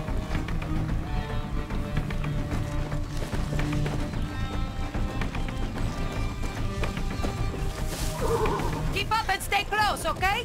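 Horse in Far Cry 6 whinnies close by over galloping hooves and busy game sound, with a shrill rising neigh near the end while people talk.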